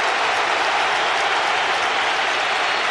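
A crowd applauds player Barış Telli at a Turkey versus England amputee football match, a dense, steady wash of clapping that holds at an even level throughout without pause.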